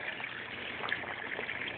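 Water from a small backyard pond waterfall trickles and splashes steadily, a soft continuous hiss with no voices, brief and even throughout.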